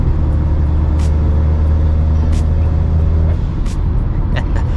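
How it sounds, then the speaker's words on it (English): A modded Acura RDX turbo with a high-flow cat and resonators idles and revs loud and close, a deep rumbling exhaust drone with brief higher chirps and puffs over it. "This car makes some awesome noises, man."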